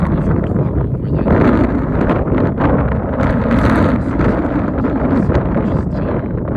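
Strong January wind blows hard and continuously, with gusts around 37 km/h battering the microphone in a loud, unbroken roar full of rumble and buffeting.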